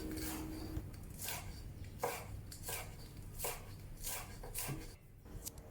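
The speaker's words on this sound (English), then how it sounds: "And thinly slice the green and the white section separately." A knife thinly slices scallion stalks on a cutting board, producing a rapid series of crisp, evenly spaced chops, close and fairly quiet, with no talking.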